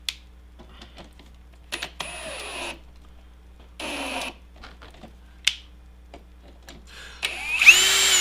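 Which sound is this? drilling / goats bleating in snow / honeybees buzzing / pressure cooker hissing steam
drilling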